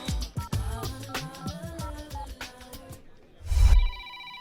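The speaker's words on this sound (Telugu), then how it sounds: "మోగుతున్న ఫోన్ ఎత్తావు గానీ నువ్వు ఎత్తుకో" A telephone rings amid a busy film scene, its bell-like tones mixed with music and other sounds before a loud burst near the end, in a Telugu comedy scene.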